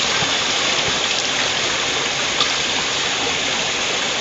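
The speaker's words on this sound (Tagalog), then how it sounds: "Ito yung source ng tubig nila dito, oh." Water pours and rushes steadily at a village water source in a rural hillside farm area, a continuous close broadband gush with no voices.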